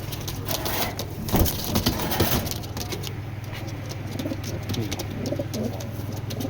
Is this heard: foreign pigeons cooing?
yes